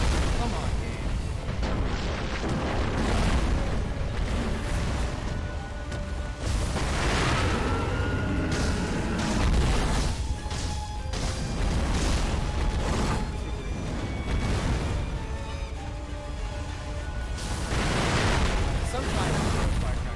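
Firecrackers popping and booming in the game Sekiro amid loud combat with a raging bull boss, dense bursts and explosions running throughout, with a voice talking over the game audio.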